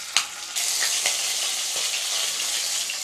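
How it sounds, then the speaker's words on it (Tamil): Paneer pieces frying in hot oil in a pan for a paneer gravy, a steady loud crackling sizzle that starts with a sharp spatter and holds on throughout without any talk. "இப்போ பன்னீர் எடுத்து போட்டுருங்க."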